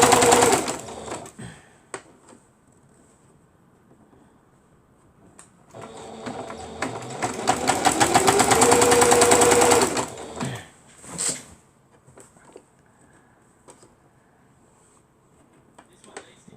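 A sewing machine stitches through material in two bursts, a short run at the start and a longer steady whirring run in the middle, close and loud, with quiet pauses between.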